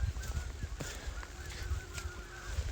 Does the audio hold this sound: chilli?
no